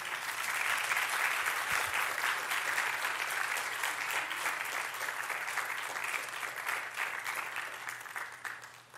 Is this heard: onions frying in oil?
no